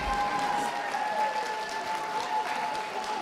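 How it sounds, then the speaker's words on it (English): Audience applause rings out around a championship dog show ring, a steady, fairly distant clapping that continues without a break, with a faint tone humming underneath. "Can we have a round of applause for those leaving the ring, please?"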